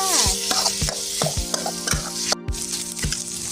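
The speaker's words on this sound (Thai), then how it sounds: "ก็เอาเครื่องมันลงไปผัดนะจ๊ะ ตามด้วยหมูสับลงไปคลุกกับเครื่องเลยจ้า" Minced pork tossed with spice paste in a hot pan, a loud close sizzle broken by regular scraping strokes of a spatula roughly every half second, with no voices.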